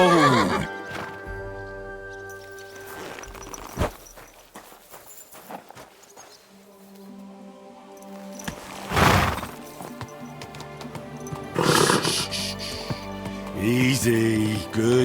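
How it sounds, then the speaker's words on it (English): A horse in Kingdom Come: Deliverance 2 whinnies loudly several times, with clip-clopping hooves and rustling movement between the calls. The sounds are close and clear, and there is no talk. "Easy, good horse."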